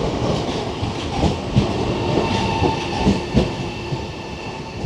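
A train in Naples rumbles steadily along the rails with a low, continuous roar and faint rhythmic clatter of wheels, heard from inside.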